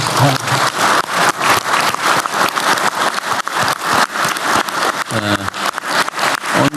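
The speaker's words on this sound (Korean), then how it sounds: "우리 고생하신 총리님한테 박수 한번 드릴까요?" Crowd applause for the prime minister at a government meeting, dense clapping filling the whole stretch at steady loudness, with a brief voice near the end.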